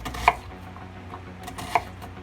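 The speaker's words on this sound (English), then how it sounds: "that's how you cut your onions" A knife slicing onions on a cutting board for grape jelly barbecue meatballs, two distinct sharp chops about a second and a half apart over quiet kitchen background.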